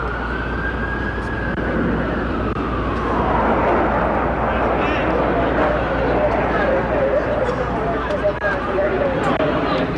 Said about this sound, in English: There's a sound of a plane, another plane in the air.